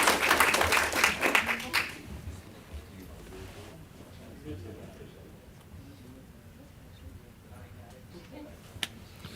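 A burst of audience applause rises at the start of a police department ceremony, then fades within about two seconds, leaving a quiet room with murmured talk.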